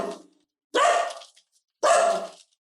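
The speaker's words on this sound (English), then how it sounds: "Now we got barking." A dog barks loudly in three separate bursts: a short one at the start, then two sustained barks about a second apart, with silence between them and no talking.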